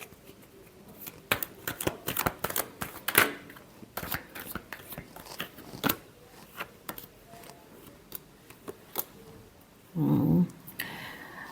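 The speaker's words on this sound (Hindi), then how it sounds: "Last shuffle." Tarot cards are shuffled by hand in quick, crisp riffling bursts with short pauses between them, close and fairly quiet, ending in a louder, denser flurry near the end.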